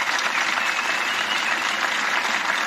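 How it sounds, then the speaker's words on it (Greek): Applause from a concert audience at a municipal summer culture festival, a dense, steady wash of many hands clapping that stays loud and even throughout, with no voices over it. "ένα μεγάλο χειροκρότημα"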